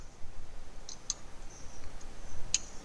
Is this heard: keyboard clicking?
yes